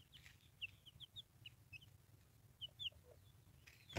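White Leghorn hens and a rooster cluck softly in a quiet farmyard, giving a string of short, high clucks spread unevenly across the moment with no voices.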